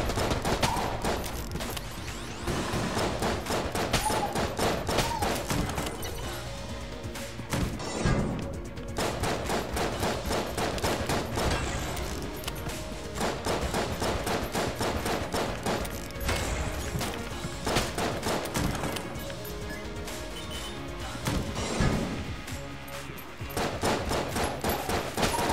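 Dense, continuous gunfire bursts from shotgun pellets in the video game Enter the Gungeon, loud and relentless with overlapping blasts and game music, briefly thinning before resuming.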